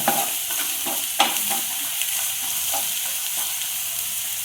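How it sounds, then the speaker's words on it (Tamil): Garlic frying in oil in a pan for a baby potato masala, a loud continuous sizzle broken by sharp spatula stirring clicks, heard alone without speech. "அந்த பூண்டு ஒட்டி போட்டாலே எண்ணெயில் சேஞ்ச் ஆகிடும்."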